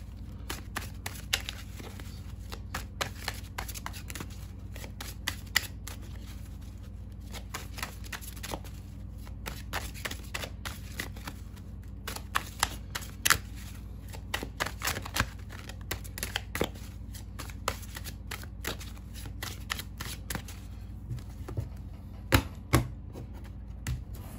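Fortune-telling cards shuffled by hand: a steady run of crisp riffling clicks and soft slaps over a low background hum, close by with no speech.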